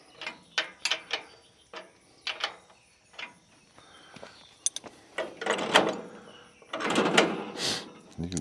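A ratchet wrench clicks in short, separated bursts, tightening bolts on the head of a Mechmaxx sawmill. The metallic clicks and clanks build to a louder grinding rattle near the end.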